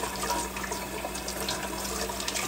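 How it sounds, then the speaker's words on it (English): Water running steadily from a kitchen tap while a funnel is rinsed under it, a continuous close rushing splash without pauses. "to wash off my funnel because I'm not going to use it"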